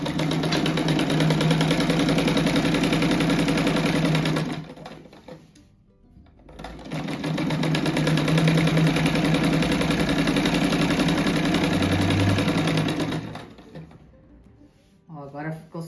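A sewing machine stitches along the fabric edge of a simple rug, running in a steady mechanical whir for about four seconds, pausing briefly, then running again. The sound is close and even, and a voice speaks near the end.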